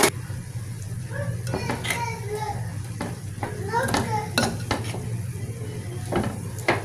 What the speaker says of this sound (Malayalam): ഇപ്പോൾ നമുക്കതിൽ മസാല ഇട്ട് കൊടുക്കാം.